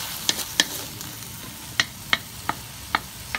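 Green beans and carrots stir-fried in a pan, with a handful of sharp, scattered clinks and scrapes of a utensil against the pan over a soft sizzle, spaced irregularly and fairly close.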